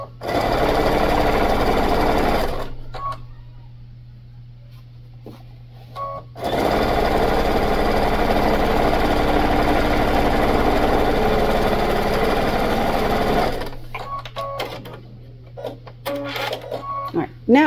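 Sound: sewing machine backstitching over a bag seam

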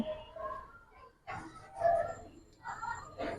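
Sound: pigeon cooing

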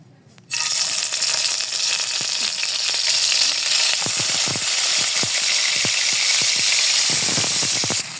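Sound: koi fish frying in oil

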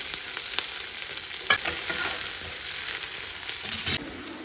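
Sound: onion, mustard seeds, dals and curry leaves frying in oil

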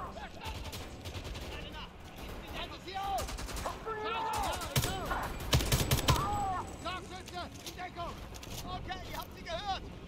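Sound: gunfire in the video game Homefront: The Revolution

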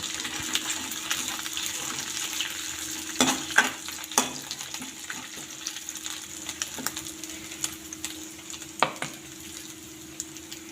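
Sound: stirring grated coconut into tomato green peas bhaji

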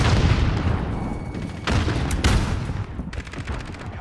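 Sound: grenade explosion in a video game

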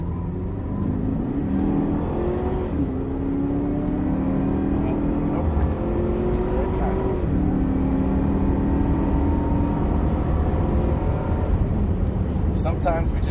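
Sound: Cadillac CTS-V Coupe accelerating on race track

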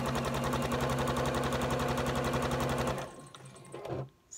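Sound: sewing machine stitching patchwork blocks

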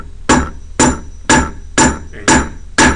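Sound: hammer striking a metal rivet into jeans

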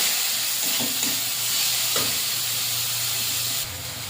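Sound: spice paste frying in pan

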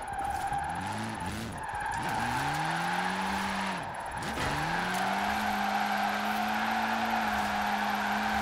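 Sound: drift car engine and tire squeal in Forza Horizon 4 video game

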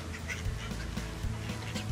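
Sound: ducks quacking

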